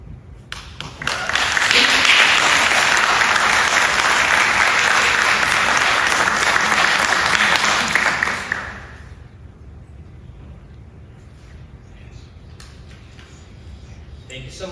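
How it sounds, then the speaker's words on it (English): Audience applause at a high school fine arts signing day, a loud, dense burst of clapping that swells quickly, holds for about seven seconds, then cuts off into a quieter room with faint noises. "Let's give her one more round of applause."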